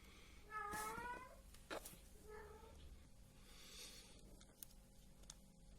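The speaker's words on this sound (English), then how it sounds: "Excuse my cat, guys, looking for attention." A house cat meows for attention indoors, with two or three clear, fairly close meows early on, followed by quieter room noise.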